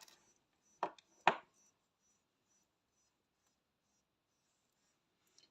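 Two quick, crisp snips of scissors cutting crochet yarn, close and clear against near silence, followed by a faint tick at the end.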